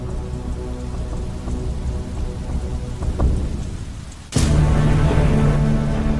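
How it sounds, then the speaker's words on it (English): Heavy acid rain pours down steadily and loud, with rumbling thunder building partway through before a sudden, louder burst of downpour and thunder takes over. "the caustic liquid rains down on every corner of the globe"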